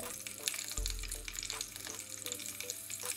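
McRib patties sizzle in a hot pan, a steady crackling fry with a deep thump as they land, followed by continuous bubbling and spitting at moderate volume.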